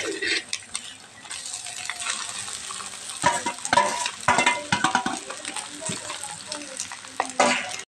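Cooked rice tipped into a hot pan and stirred for homemade egg fried rice, with a light sizzle under scraping, clinking spatula strokes that grow busier and louder midway, close and without talk.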